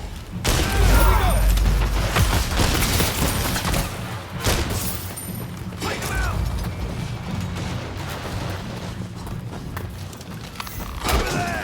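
Gunshots and booming blasts in the samurai-era action game Rise of the Ronin, a loud, dense run of repeated shots and heavy thumps with a few shouted voices mixed in.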